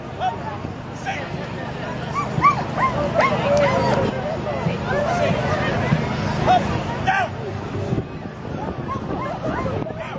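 A dog yips and whimpers excitedly through the clip, with short barks scattered under someone speaking outdoors at a dog training club display.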